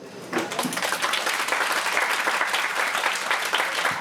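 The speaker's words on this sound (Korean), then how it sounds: "신랑 신부 인사 나눌 때 역시 많은 박수로 축하해 주시기 바랍니다." Applause from wedding guests at a Korean traditional wedding ceremony, a dense, steady burst of many hands clapping that swells quickly and carries on without pause for several seconds.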